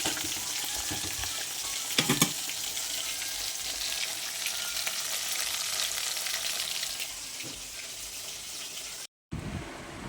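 Dried chillies, black cumin, green chilli and onion fry in hot oil in a pan, making a steady sizzle at moderate level with a few utensil clinks, a brief cut near the end, then the sizzle resumes.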